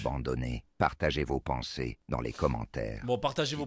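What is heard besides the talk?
No distinct noise like a dog, phone or traffic.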